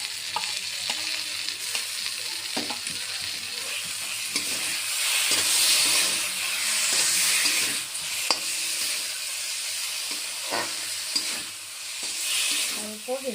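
Mustard paste and onion paste fry in a pan for a Bengali rohu fish dish, with a continuous close sizzle that swells and eases, broken by scraping stirs and utensil knocks.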